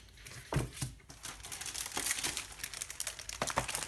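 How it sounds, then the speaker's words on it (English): Thin plastic bag crinkling and rustling as a Logitech G213 Prodigy gaming keyboard is pulled out of it, soft and close, with steady crackling and a few sharper crinkles. "I'll just take it out of this little bag it's in."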